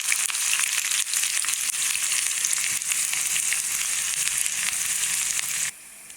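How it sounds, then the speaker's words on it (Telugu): Chopped onions sizzling and crackling steadily in hot oil with seeds for a capsicum and green pea masala curry, a loud continuous fry that cuts off abruptly near the end. "మంచిగా అవి చిట్టుపట్లాడుతున్నప్పుడే మనం ఉల్లిగడ్డ కట్ చేసుకుని వేసుకోవాలి"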